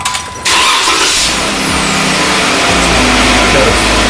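A Jeep engine cranks briefly and catches, then settles into a steady, close idle with a slight rise in revs.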